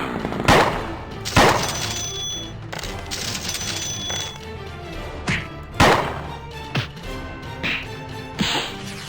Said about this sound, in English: Let's shoot ourselves while we're going downwards to give ourselves extra height.